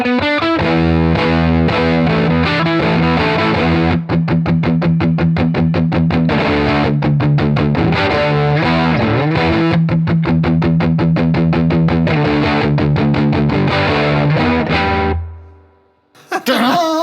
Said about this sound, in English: That was the Gypsy Fuzz into the Box of Rock, into the Deluxe.